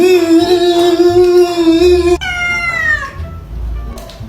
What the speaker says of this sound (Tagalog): May pusa pala kayo?